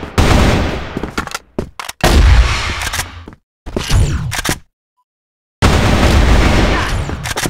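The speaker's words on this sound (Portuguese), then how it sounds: "Na hora que eu abro o mira é que ele começa a dar tiro." Gunfire in a first-person shooter video game, with loud bursts of rapid shots and booming hits broken by abrupt silent gaps, close and punchy.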